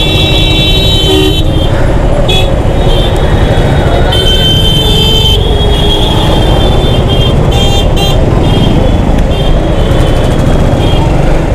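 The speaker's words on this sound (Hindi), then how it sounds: "और इतना ट्रैफिक है यहाँ पे, पूछो मत।" Busy road traffic in Uttarakhand, loud and close, with repeated car and vehicle horns tooting over a constant rumble of engines, some honks short and others held.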